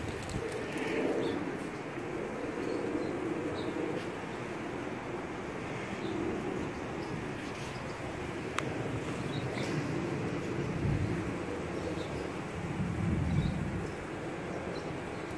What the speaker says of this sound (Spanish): Palomas de Antonio Sosa, de Palomar, Sunset Love